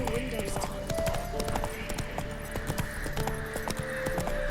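Roach the horse galloping in The Witcher 3, a steady rapid clip-clop of hooves up close, mixed with game music and voices talking over it.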